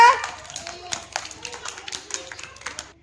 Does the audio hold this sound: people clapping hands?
yes